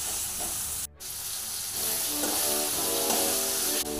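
Tomato pieces, curry leaves, turmeric, salt and coriander fry in a pan with a steady, close sizzling hiss that runs throughout, broken by one brief gap and faint stirring.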